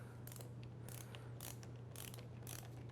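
A screwdriver adjusting a 20/21 Ride snowboard binding ratchet, giving a series of quick clicking ratchet bursts about every half second over a steady low hum, close and fairly faint.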